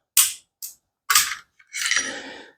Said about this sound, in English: we're going to pull the trigger to get the slide off